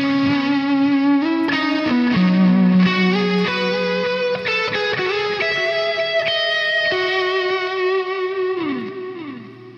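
Electric guitar through a lead-tone preset on the M-Vave Tank G, playing a sustained, singing single-note melody with bends and slides, loud and close, fading slightly at the end with no voices.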